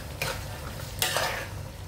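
Spices, carrot and curry being stirred together in a pot for fried rice, a continuous close sizzle with two bursts of scraping as the mixture is moved, no voices.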